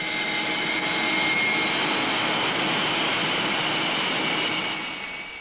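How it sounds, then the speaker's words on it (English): Loud, steady roar of jet engines running at high power, a continuous broad rush with a faint whine, easing slightly at the end. "what do you think would happen to Miss Body if the engines of this aircraft were increased to full power?"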